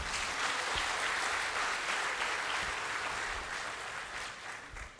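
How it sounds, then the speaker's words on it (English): An audience at a global policy forum gives a long round of applause, thick continuous clapping from many hands that holds steady and then slowly fades toward the end. "A round of applause, ladies and gentlemen."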